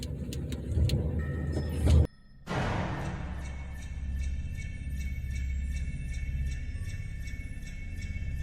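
A 1960 Studebaker engine idles steadily and close by with a low, even rumble, broken by a sharp knock and a brief dip in sound before the running resumes.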